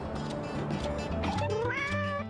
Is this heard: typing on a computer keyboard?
no